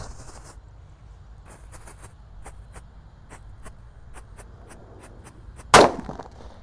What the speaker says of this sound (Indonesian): Kalau ini diskotor, kita nyalakan happy flower ya.